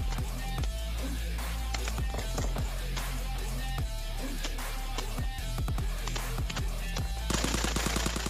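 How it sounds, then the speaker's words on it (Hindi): Rapid bursts of automatic gunfire ring out in a PUBG Mobile firefight in Rozhok, loud and close in a dense, repeated pattern throughout, with no talking. "तो अब मैं बस ऐसे ही अंदर वाला फायर करता हूँ, ब्लाइंड फायर करता हूँ"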